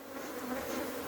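Africanized honey bees at a hive in Trinidad give off a steady, dense buzz, close and continuous, with no voices over the hum.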